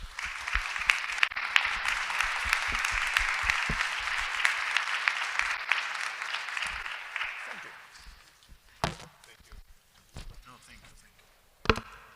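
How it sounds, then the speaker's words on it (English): An audience at a panel discussion on violence against journalists and election integrity gives steady applause for about seven seconds, then it fades to scattered claps and room noise. "please, an applause for all of them"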